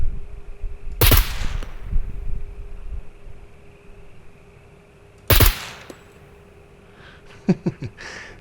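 A UMP-45 submachine gun fires in the SCUM video game, with two loud, close bursts several seconds apart and a few quieter single shots near the end.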